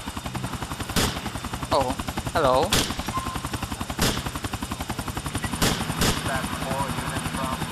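Helicopter rotors in the video game Grand Theft Auto IV, a steady rapid chopping throb throughout, punctuated by loud sharp gunshot bursts, with someone speaking briefly over it.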